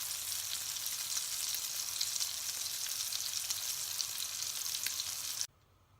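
A rabbit, duck, herb and garlic burger patty fries in a pan with a steady, close sizzle that runs unbroken for several seconds and then cuts off abruptly near the end.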